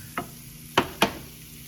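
Rice with garlic and onion frying in butter and oil, a quiet sizzle beneath three distinct scrapes of a spoon in the pan, one early and two close together near the end.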